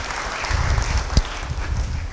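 Dense applause from a church congregation, a steady wash of many hands clapping with one sharper clap standing out midway.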